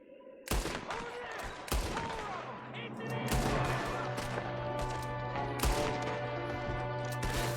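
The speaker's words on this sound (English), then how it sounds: "There's another one shooting from the window." Gunfire in the video game Red Dead Redemption 2, with sharp repeated shots and bursts cracking over a continuous din of game noise and a steady hum, loud and close, shots spaced irregularly throughout.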